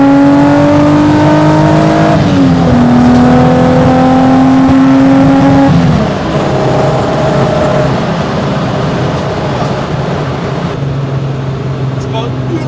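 A Golf R32 Mk1 with a 3.2 engine accelerates hard from inside the car, its loud engine note climbing steadily through the gears with brief drops at each shift, then settling into a steady roar.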